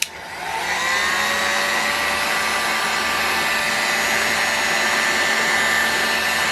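Electric heater or heat gun blowing a steady, loud airy whir while warming the aluminum front housing of a Boca Bearing Raduga 10RU so new bearings can be fitted, continuous and alone.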